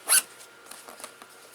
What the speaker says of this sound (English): hidden zipper.